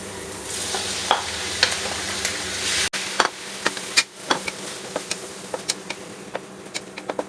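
Chopped tomatoes dropped into a pan of frying onion and garlic, a steady hissing sizzle with sharp crackles and pops and a sudden drop in the sizzle partway through, no voices.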